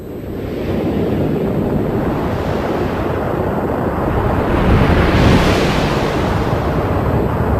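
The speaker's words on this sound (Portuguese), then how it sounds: "o choque em arco do planeta gigante, que produz um som como o vento nos dados eletrônicos" Spacecraft data from Jupiter's bow shock rendered as sound: a dense, continuous windy roar like rushing surf, steady throughout with a slight swell toward the end.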